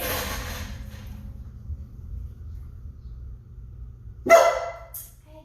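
A guard dog barks twice, the first bark loud and sharp up close, followed a beat later by a fainter second yip, with a quiet low room hum filling the silence before them.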